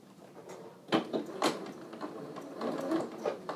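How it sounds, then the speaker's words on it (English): A sewing machine stitches over a basting line on the short cuff sleeve of a Lou Box dress, uneven bursts of close mechanical whirring with pauses between runs. "now we are going to stitch over that basting line that we just did"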